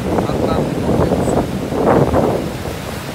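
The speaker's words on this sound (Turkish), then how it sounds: "Burası okyanus dostlar." Ocean waves and strong wind on the beach at Tarifa, a loud, continuous rumble of surf with wind buffeting the microphone and a swell of breaking water near the middle.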